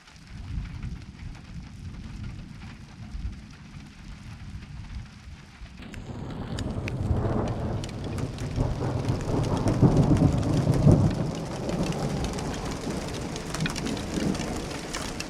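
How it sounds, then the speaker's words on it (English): A thunderstorm in the wilderness with steady rain, a low rumble of thunder rolling underneath as the downpour grows heavier and louder partway through; no talking. "Here comes the rain."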